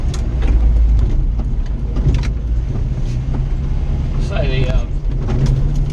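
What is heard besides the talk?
620 four-wheel drive vehicle driving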